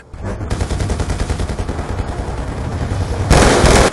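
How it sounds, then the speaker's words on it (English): Rapid, sustained automatic gunfire from an MQ-27 drone in a video game rattles steadily and loudly, with a harsher, brighter burst joining near the end. "Friendly MQ-27 gunfire deployed."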